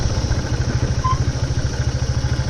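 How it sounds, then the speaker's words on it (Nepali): A motorcycle engine at Sulikot near Dharan, Nepal, running close by at a steady idle before a hill ride, with an even, rapid thumping exhaust beat and no talk. "अब फेरि बाइक यात्रा सुरु"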